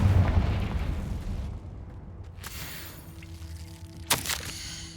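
A Confringo explosive spell in the Hogwarts Legacy video game bursts with a sharp crackling blast, followed a moment later by a second bright, fizzing impact over a low rumble.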